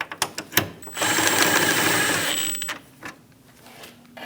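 A power tool, likely a ratchet or driver, runs for about two seconds, close and steady, tightening the 10mm grille bolt on a 2001-2006 Chevrolet Silverado 2500 HD, with a few clicks and taps before and after.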